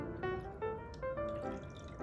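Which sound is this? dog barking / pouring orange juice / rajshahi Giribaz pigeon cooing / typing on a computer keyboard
pouring orange juice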